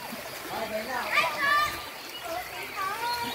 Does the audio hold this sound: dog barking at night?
no